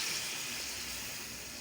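A glass of water poured into a cooking pot of quail karahi with peas, a brief steady gushing splash, quiet and continuous.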